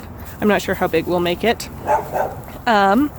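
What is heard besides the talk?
dogs barking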